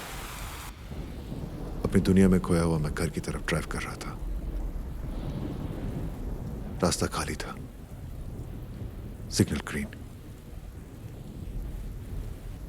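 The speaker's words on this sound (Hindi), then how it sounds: "उस रात बारिश हो रही थी" Heavy rain falls through a night thunderstorm, with several loud, sharp thunder cracks breaking over a steady downpour while someone narrates calmly throughout.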